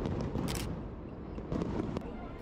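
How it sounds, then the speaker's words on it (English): Midnight fireworks set off over a river in Portugal on Saint John's Day, heard as distant muffled bursts and crackles over a steady crowd murmur, with a few sharper pops standing out. "at midnight, some fireworks were set off from the river"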